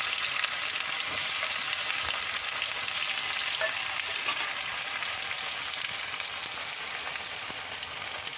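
Small shallots sizzle steadily in hot oil with fenugreek and fennel seeds, a dense, even crackle that runs the whole time with no voices.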